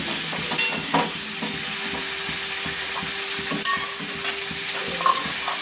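Pumpkin pieces frying in hot oil with salt and turmeric give a steady close sizzle, with occasional stirring clicks and scrapes of a utensil against the pan in a home kitchen.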